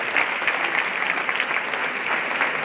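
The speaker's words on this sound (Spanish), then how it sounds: "Yo quisiera de verdad pedirle a todos ustedes un aplauso para ella y para toda esta Escuela de Sallagos" An audience applauds at a saeta singing event in a plaza in Córdoba, dense, even clapping from many hands, moderately loud and unbroken throughout.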